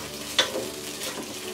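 Ginger and garlic paste sizzles steadily in a hot pan while a utensil stirs it, the frying hiss continuous and close with a brief scrape near the start.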